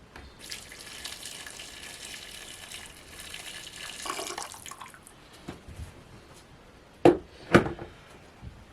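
Boiled water pours from a pot or kettle into a cooking pot of Greek meatballs for avgolemono soup, a steady gushing stream for about five seconds, then a few brief sharp clatters, with no talking.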